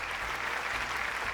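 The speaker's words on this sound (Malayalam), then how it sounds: "നല്ലൊരു കയ്യടി." Audience applause on a Malayalam TV game show set, steady clapping from a studio crowd filling the whole stretch at moderate loudness, with no voices over it.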